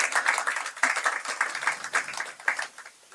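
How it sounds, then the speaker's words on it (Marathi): Lively audience applause at a Marathi music concert, many hands clapping in dense, uneven bursts throughout, fairly close and sustained before thinning at the end. "सर्व टीमसाठी जोरदार टाळ्या झाल्या पाहिजे."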